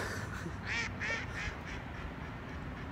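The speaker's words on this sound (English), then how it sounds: "Ducks are laughing at me." Ducks at Kiwanis Lake give a few quick quacks in two or three bursts, moderately close over a low outdoor background rumble.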